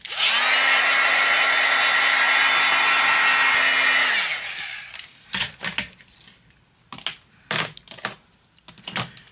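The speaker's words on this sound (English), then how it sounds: "I'm gonna go ahead and melt the embossing powder that's on here, so they'll be nice and shiny." A heat tool blows steadily for about four seconds, melting embossing powder on a handmade pop art card, then cuts off, leaving a few scattered light taps and handling sounds.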